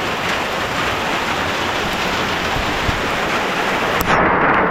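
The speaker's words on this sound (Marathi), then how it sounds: "मग आता अंदाज आहे की खरंच पाऊस पडतोय" First seasonal rain falling in the Konkan region, a dense, steady hiss of drops close by that stays loud and even throughout, with no voices.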